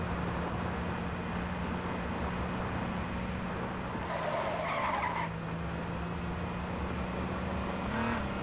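A car drives in the battle royale game H1Z1: King of the Kill, a low steady engine drone that runs throughout, with a brief tire skid or scrape around the middle and another near the end, with no talk.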